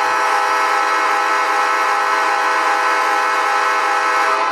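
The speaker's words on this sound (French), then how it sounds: "Voilà, le klaxon." A Märklin ES44AC BNSF model locomotive sounds its horn in one loud, sustained multi-tone blast that holds steady for several seconds before cutting off.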